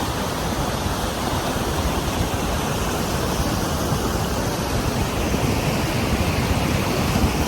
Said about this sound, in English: That is Epupa Falls.